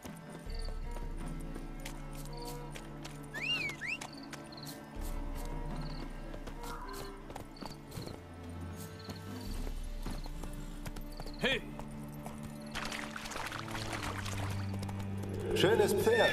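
Steady clip-clop of horse hooves with an occasional whinny in The Witcher 3: Hearts of Stone, layered over game music and ambient tones, with some talk in the background.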